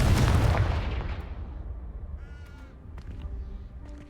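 A Confringo blasting spell from Hogwarts Legacy goes off with a loud, close explosion at the start, its rumble fading over a few seconds into quieter debris and ambient sounds.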